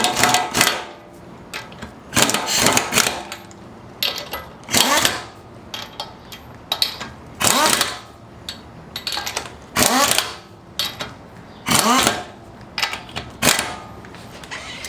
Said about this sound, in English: use the impact wrench ever so slightly to start tightening these up